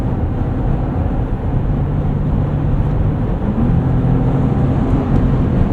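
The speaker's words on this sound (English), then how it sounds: "Going into hybrid mode, we'll kick the engine on periodically." A 2024 Porsche Cayenne E-Hybrid driven in hybrid mode brings its engine on while moving; a low, steady drone and road hum fill the cabin, with a smooth tonal rise partway through and no voices.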